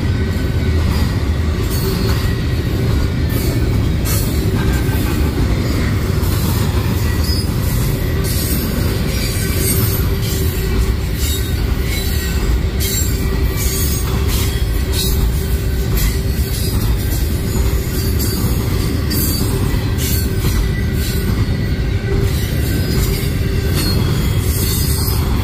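A CSX freight train of intermodal container cars rolls past close by, a steady loud rumble of wagons with squealing wheels and faint rhythmic clatter running unbroken throughout.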